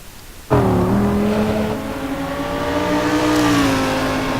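Race cars on a track in a pro-am racing series, one engine starting abruptly and holding a loud, steady high rev with smooth harmonic whine, rising slightly near the end.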